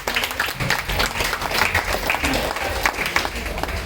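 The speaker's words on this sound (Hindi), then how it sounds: "तालियां" An indoor crowd at a welcome gathering for blind guests at an orphanage claps in a dense, steady round of applause, fairly close and loud throughout, with voices mixed in.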